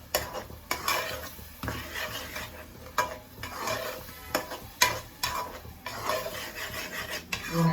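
Masala for a Traditional morkali peas side dish being sautéed in a pan, with repeated scraping and stirring strokes of a utensil over a low sizzle, close and steady with occasional sharper clinks.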